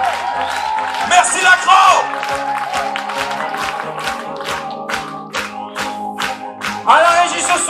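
An audience at a comedy festival show applauds and cheers a comedian, dense rapid clapping with whoops rising and falling, while someone speaks over the applause and then shouts a thank-you to the crowd.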